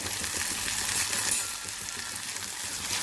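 Chopped onions, green chilies and curry leaves sautéing in a pan make a loud, continuous hissing sizzle up close, with occasional light clinks of a utensil and no talking.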